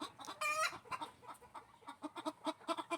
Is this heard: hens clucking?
yes